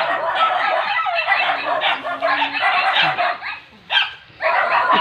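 Several dogs bark excitedly in overlapping bursts while a rooster crows through the commotion, all loud and close.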